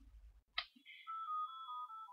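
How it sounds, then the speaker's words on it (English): A phone ringtone plays alone in a quiet room, a soft click followed by a clear electronic melodic tone that sweeps down in pitch and holds, fairly faint. "My phone is ringing."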